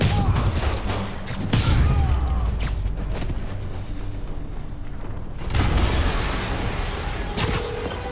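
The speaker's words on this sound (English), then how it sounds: "an explosion just... I saw it." Loud game explosions and gunfire bursts in a Spider-Man PS4 battle against Fisk, heavy booming blasts recurring over the clip with dense crackling debris and a brief lull in the middle.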